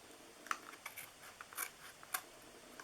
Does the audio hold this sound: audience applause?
no